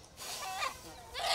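A chicken being looked over for purchase lets out two short, throaty honking clucks about half a second apart, fairly near and moderately loud over a quiet background.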